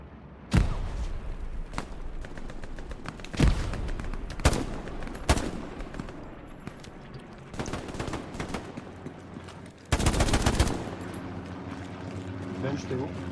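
Scattered rifle and machine-gun fire from the World War II video game Hell Let Loose, with sharp single shots, short bursts and some distant reports, while players talk over the action.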